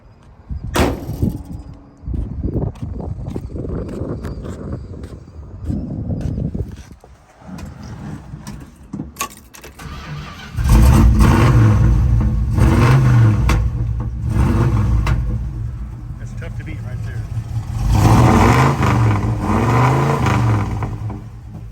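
A 1976 Plymouth Trailduster Sport's V8 engine cranks, fires up and revs hard in loud, repeated surges, settling into a deep rumbling idle between throttle blips.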